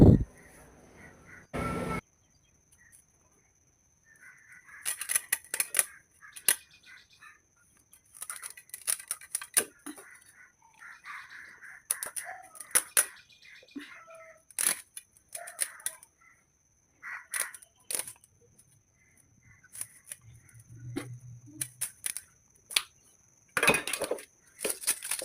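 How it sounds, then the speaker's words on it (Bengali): A live fish has its fins snipped off and its scales scraped away, giving sharp intermittent clicks, snips and scraping bursts separated by quiet pauses. "এই তো এবারে জ্যান্ত মাছটির পাখনা কেটে আঁশ তুলে নেব।"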